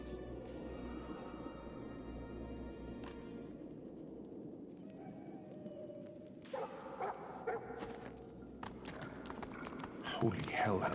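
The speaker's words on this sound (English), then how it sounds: "Holy hellhounds. Those dogs sound out for blood." Hellhounds barking in the fantasy game Divinity: Original Sin 2, a snarling pack heard under game music and ambient effects, with a burst of harsher noise near the end.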